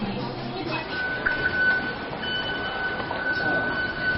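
A Taipei MRT metro train runs along with a steady rumble and a thin, sustained tonal whine, plus occasional clunks, under a continuous even roar.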